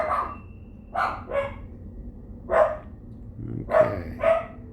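Several dogs bark indoors in short separate bursts, about six barks spread irregularly, some single and some in quick pairs, loud and nearby over a quiet background.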